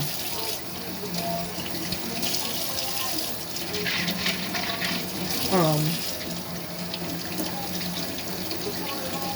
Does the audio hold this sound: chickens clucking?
no